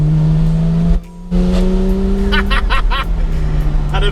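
A Porsche 993 Carrera 4S with its exhaust valves open revs hard on a country B road, its engine note loud and close, rising then dropping for a short gear change. Brief voices sound under the engine roar.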